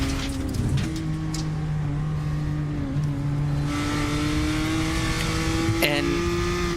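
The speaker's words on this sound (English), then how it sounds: "we're riding on board with the BS Plus competition car, just behind the Nürburgring Esports Whippleman car in the M2 category" Onboard engine of a BMW M2 category race car in iRacing at the Nürburgring drones steadily, its pitch climbing and dropping through gear changes while a commentator talks over it.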